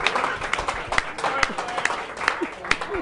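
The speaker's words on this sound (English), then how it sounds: "Let's give a round of applause for the Lady Obama Academy girls basketball team." Applause for the Lady Obama Academy girls basketball team at a gathering in a rib house restaurant: sharp, irregular claps from a modest group, with talk underneath.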